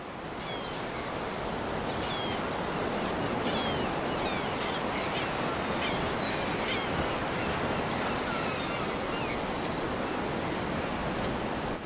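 Ocean waves break along the African coast in a continuous, loud wash of surf, with scattered high chirping calls rising faintly above the roar.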